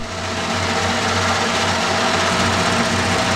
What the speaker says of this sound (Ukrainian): Тобто Ділильна головка крутиться і знімаємо потрошки.